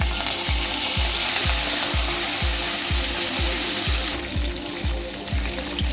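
Curry leaves fry and sizzle loudly in hot oil, a steady close crackling hiss with a regular rhythmic scraping of stirring throughout, alone without voices, while cooking a spicy bitter gourd fry.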